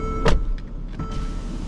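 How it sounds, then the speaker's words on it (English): Power windows on a 2014 Mercedes-Benz ML350 CDI run in short electric motor whirs inside the car, a brief burst followed by softer, intermittent hums with no talking. "And we're gonna test windows."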